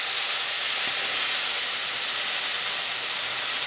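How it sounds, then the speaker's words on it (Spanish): Red tomato sauce is poured into a hot pan of beef steak and sizzles hard, a loud, steady broadband hiss that holds evenly throughout without a break. "Agregamos la salsa"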